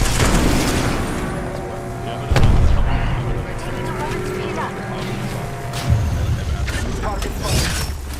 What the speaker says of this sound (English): Tossing an arc star.